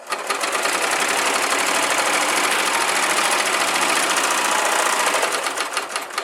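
A Baby Lock Imagine serger (BLE1AT) sewing machine runs steadily at speed for several seconds, close and loud, with a fast rhythmic mechanical whir and clatter that holds constant before easing at the end.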